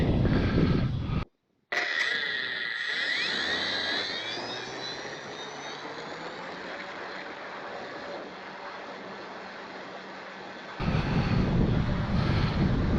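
A Cessna TTX taking off, its engine whine sweeping and fading as it climbs away, with a loud broadband rush at the start and end of the sound.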